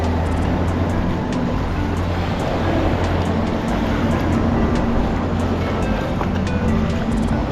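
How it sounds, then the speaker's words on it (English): A boat engine drones from the water off a Florida beach, mixed with surf, waves and wind buffeting the microphone, a constant wash of noise with no talk. "Boy, that boat noise."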